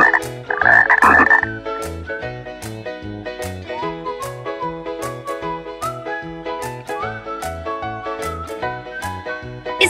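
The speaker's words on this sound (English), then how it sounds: "It's the sound of frog." A frog croaks loudly near the start, then rhythmic croaking continues over a repeating bouncy musical backing.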